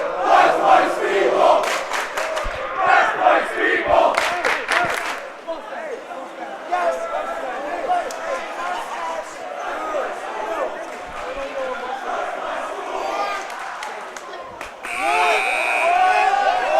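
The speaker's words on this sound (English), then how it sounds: "I'm just listening to the cheering sessions go back and forth now" Basketball crowd at a high school game between Elder and St Xavier, with rival cheering sections chanting back and forth: loud rhythmic chants and roaring cheers filling a gym, with a commentator talking over them.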